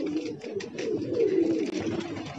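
Pigeons coo nearby where grain has been scattered for them, a few soft, throaty rolling calls over faint background noise.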